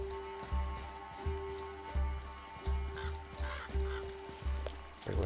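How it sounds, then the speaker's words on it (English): Ordinary birds call in the video game God of War (2018), a steady run of roughly seven honking, goose-like calls at a regular rhythm over a low, constant ambient hum, fairly quiet with no talking. "Regular birds."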